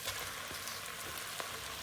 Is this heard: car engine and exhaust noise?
no